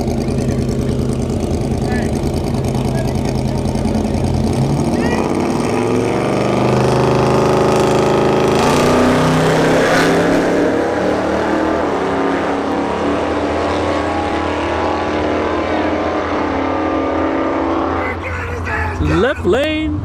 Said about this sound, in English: 392 skip in the left lane versus the C3 Corvette here in the right lane